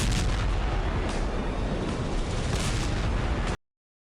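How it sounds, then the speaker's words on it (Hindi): Roaring blast and rumble from a drone strike on an oil depot tanker, a dense, sustained loud boom with crackling bursts filling the whole span before cutting off abruptly. "ड्रोन हमले से तेल डिपो के टैंकर में विस्फोट।"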